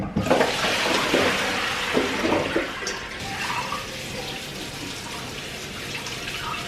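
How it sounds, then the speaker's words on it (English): Tap water runs over celery held in a strainer above a kitchen sink, a steady rushing splash that is loudest for the first few seconds and then settles to a softer, continuous flow. "so now we're going to rinse off the celery"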